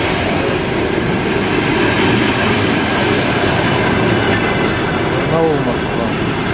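Rumbling Moscow–Barnaul passenger train passing close by with steady clattering wheels and a brief metallic squeal near the end, loud and continuous.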